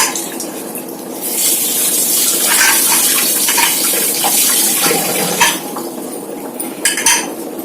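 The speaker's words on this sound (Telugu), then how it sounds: "కొత్తిమీర ఆకులు ఒకటి తీసుకుని కడిగేసుకుని వేసేసుకోండి" Fresh coriander leaves are rinsed under running water, a steady gush from the tap with occasional clinks of a bowl or utensil, close by and fairly loud, with no talking.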